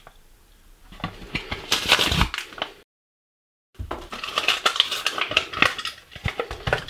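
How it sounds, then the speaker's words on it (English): A plastic blister pack holding a vintage toy car is cracked open by hand, giving dry crinkling and snapping bursts that stop for a brief silent gap and then resume as steady crackle. "crack that blister open"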